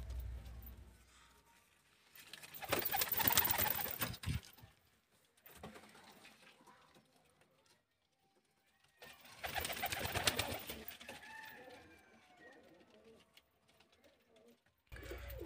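Pigeons coo in two loud bursts amid quieter rustling and fluttering, with gaps of near silence between them.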